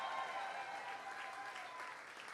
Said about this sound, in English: You better applaud real loud.